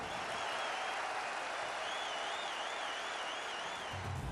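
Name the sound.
crowd cheering and applauding at the Howdy Modi rally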